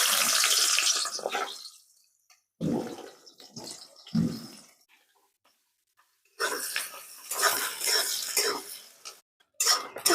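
Chopped onions go into hot oil already used to fry potatoes, seasoned with bay leaves and a dried red chilli, for a Bengali-style mutton curry; loud hissing sizzle comes in uneven bursts separated by near-silent gaps.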